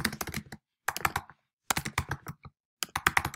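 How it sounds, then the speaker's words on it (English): Typing on a computer keyboard, close and clear, with quick bursts of rapid key clicks separated by short silent pauses. "You can type in your question."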